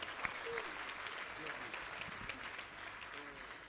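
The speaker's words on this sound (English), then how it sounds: "Let's give Jesus a very big clap." Applause from a wedding congregation, a steady patter of clapping with voices talking and calling out over it, fairly faint and distant.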